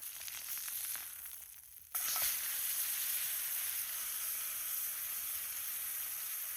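A steak fries over a campsite cooking fire, giving a steady close sizzle and hiss that rises sharply partway through and holds at an even level with no talk.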